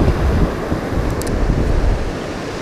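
Warm wind buffeting the microphone on a deserted beach near the Hurunui River, a steady rushing roar with surf-like wash underneath and no voices.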